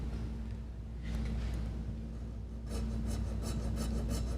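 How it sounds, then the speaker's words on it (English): Small file rasping in the slot of a guitar nut, with close, quiet back-and-forth scraping strokes over a low steady hum that quicken into a regular rhythm toward the end. "I'm just filing at the bottom of that slot"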